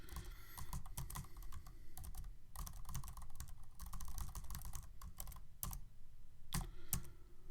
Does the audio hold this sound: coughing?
no